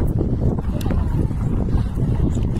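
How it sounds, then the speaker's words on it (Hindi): Strong outdoor wind buffets the microphone in a continuous low rumble for the whole stretch, loud and steady with small gusty swells. "बहुत हवा चल रही है"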